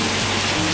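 A brief, steady wash of splashing water as water is poured out after making a PCB, close and continuous.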